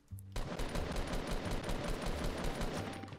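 Rapid automatic gunfire in the Fortnite Battle Royale video game: a dense, continuous burst of shots lasting about three seconds, loud and close, with no talking over it.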